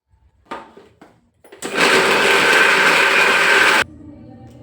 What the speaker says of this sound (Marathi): हे जे खोबरं खिस काढलं होतं आपलं त्यामध्ये टाकणार आहोत आणि मिक्सरमधून फिरवून घेणार आहोत